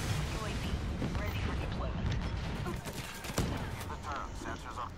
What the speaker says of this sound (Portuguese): deu um tiro na cara dele e não matou